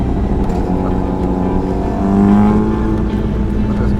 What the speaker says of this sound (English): But this guy's bike is quite loud.